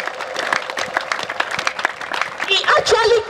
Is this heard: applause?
yes